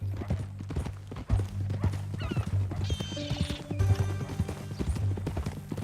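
In Red Dead Redemption 2, a horse clops its hooves steadily and close by, with a neigh breaking out midway over a low ambient hum and no talk.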